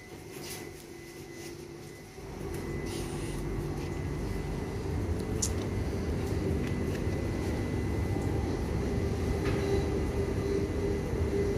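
A steady low rumble and hum of a Class 395 high-speed train running at speed, heard from inside, with a continuous drone and faint rattles.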